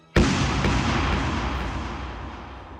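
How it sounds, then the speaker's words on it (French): An anti-tank grenade goes off in a single sudden, loud explosive blast whose roar rolls on and slowly dies away across nearly three seconds, with no voices. "Toutes les explosions se produisirent quasi simultanément."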